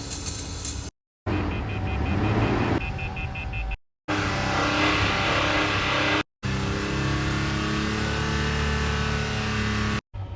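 A gasoline truck mistakenly filled with diesel turns over and catches, then revs and runs loudly nearby, with a few brief cuts in the sound.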